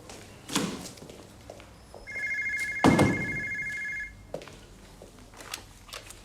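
A telephone rings once with a sustained electronic tone, preceded by a couple of soft knocks and thuds in a quiet room and followed by a few faint taps.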